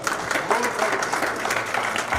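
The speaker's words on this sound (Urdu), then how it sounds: "اس کے اوپر ایک تالی تو بنتی ہے" A mushaira audience at a Huroof-e-Adab Academy evening in California breaks into steady, dense clapping that holds for about two seconds, with some voices mixed in.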